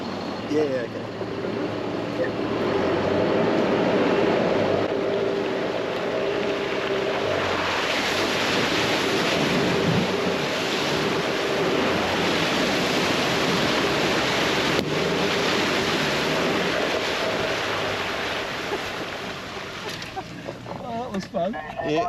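A 4x4 on a Sunshine Coast bush track at Curra ploughs through water, a loud sustained rushing splash and wash that swells and holds for about twenty seconds before easing, with heavy wind buffeting over it.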